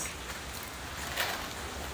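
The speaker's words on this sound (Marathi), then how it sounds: "आणि पाऊस इतका कोसळतोय" Heavy monsoon rain in Pune, Maharashtra, a dense, even wash of falling water with no distinct drops, steady and fairly faint throughout.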